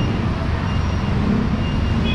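A garbage truck backing up on a city street, its reversing alarm sounding under a constant low engine rumble and surrounding roadway noise.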